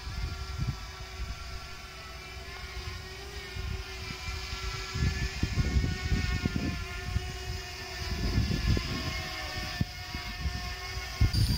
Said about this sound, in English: Now we have the drone flying at a distance,